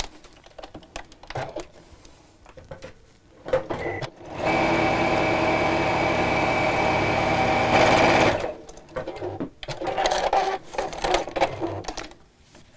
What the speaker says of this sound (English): And then I'm just going to sew down one side.